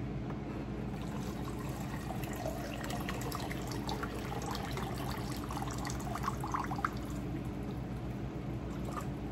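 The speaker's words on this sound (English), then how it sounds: "now I'm going to be adding water and getting that dissolved." Water pours into weighed salt to make a brine for fermenting peach hot sauce, a continuous close trickling and splashing over steady background noise, with no talking.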